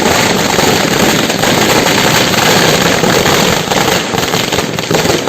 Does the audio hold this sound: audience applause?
no